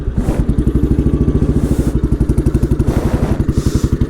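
A 1981 Royal Enfield Bullet 350 single-cylinder motorcycle runs close by with a loud, steady, fast thumping beat and some mechanical clatter, with no talking.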